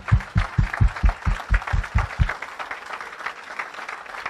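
A church congregation claps in praise of the Lord, about ten loud rhythmic claps in a steady beat that stop after a couple of seconds, leaving a murmur of voices and softer scattered sound.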